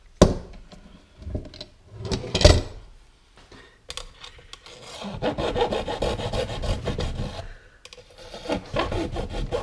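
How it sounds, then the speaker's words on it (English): A bare hacksaw blade rasping around the corners of a leather welding hood, uneven bursts of scraping and rubbing strokes, close and fairly loud, sometimes pausing, with no voices. "I take one of these, hacksaw, take the blade out, and then you can cut around those corners"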